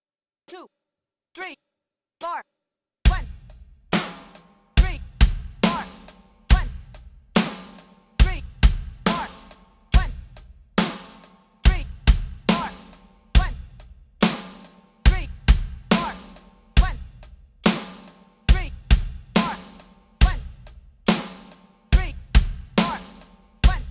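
A steady rock drum beat, with kick, snare and hi-hat, repeats in a slow, even groove at 70 beats per minute after a few count-in clicks, close and punchy.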